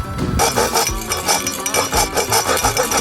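Serrated edge of a digging tool sawing a cut, a close, rhythmic rasping of quick repeated back-and-forth strokes with faint metallic clinks.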